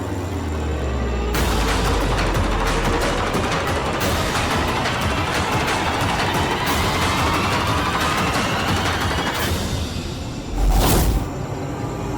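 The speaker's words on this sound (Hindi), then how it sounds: "चला गोली" Gunfire in a Hindi TV fantasy drama episode comes as a dense, sustained burst of loud shots and blasts, with a heavier boom near the end.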